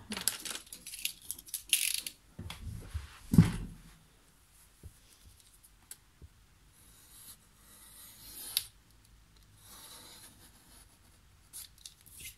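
A utility knife scores along a ruler in a few short scraping strokes, close and crisp, with a sharper knock partway through and long quiet gaps between bursts.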